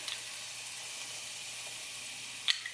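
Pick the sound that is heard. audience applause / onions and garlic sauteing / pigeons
onions and garlic sauteing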